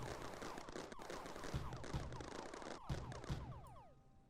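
Cannons firing in the video game Mindustry, rapid overlapping volleys of shots with descending whistling tones, dense bursts of gunfire that thin out toward the end.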